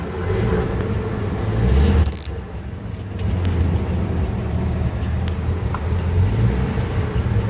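A 1955 Chevy car driving, a steady low engine rumble and road noise heard from inside the car, continuous and moderately loud, with a brief dip near the middle.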